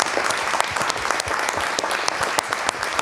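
A studio audience applauds during a French-language broadcast on responsible quantum research, dense steady clapping for a few seconds with sharp individual claps standing out.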